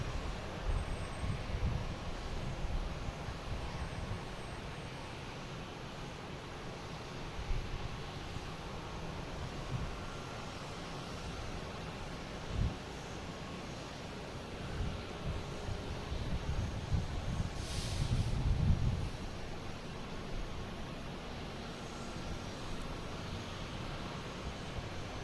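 A Wheels Up aircraft inbound from Asheville arrives at Boston Logan airport as a faint, distant jet rumble. It swells briefly toward the end, then fades back into a steady background hum, with no voices present.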